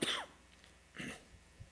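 Two close coughs from someone with a lingering cold: a sharp, throaty one at the start and a softer throat-clearing cough about a second later, in an otherwise quiet room.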